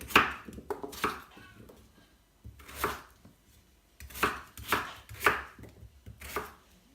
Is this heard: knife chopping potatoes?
yes